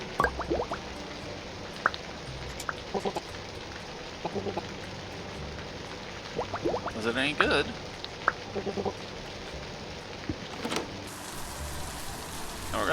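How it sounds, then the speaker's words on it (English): Steady rain falls outdoors as a continuous hiss with scattered drips, while people talk and call out close by over the downpour. "Now we're gonna run around in the rain together."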